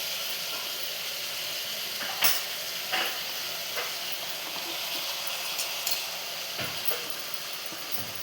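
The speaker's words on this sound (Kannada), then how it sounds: "ಬಾಡಿಸ್ತಾಯಿದ್ದೀನಿ ನೋಡಿ. ಈ ಥರ ಕ್ಯಾಬೇಜ್ ಫ್ರೈ ಆಗಿದೆ." Chopped cabbage and tomato frying in hot tempering oil give a steady, loud sizzle with a few soft stirring clicks and no voices.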